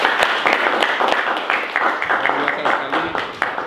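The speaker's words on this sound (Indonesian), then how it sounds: "Oke, tepuk tangan dulu." An audience at a Hindu religious talk clapping, a fairly loud burst of many hands with distinct sharp claps standing out from a rough, uneven patter.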